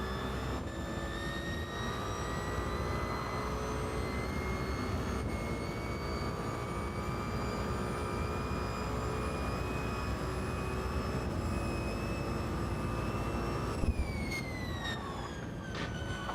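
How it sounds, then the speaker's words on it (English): Gr.1 prototype race car engine in Gran Turismo 7, a steady high-pitched whine held at near-constant pitch for a long stretch, with a brief jump in pitch near the end. "Just listening to that engine."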